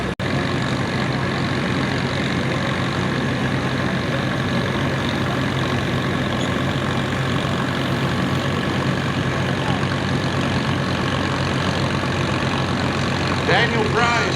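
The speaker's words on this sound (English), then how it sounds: "1942 Farmall M." A 1942 Farmall M antique tractor runs at a fall tractor pull event, its engine a steady, loud, continuous drone throughout, with an announcer's voice faintly mixed in.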